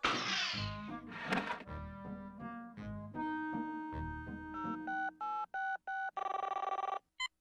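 Cartoon telephone ringing in a bright, repeated electronic trill, loud and close, with pulsed rings near the end after a burst of cartoon sound effects and animal-like noises.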